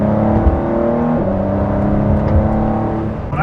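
A hypercar engine runs loud and steady close by, with layered tonal harmonics that hold a sustained drone and step in pitch partway through.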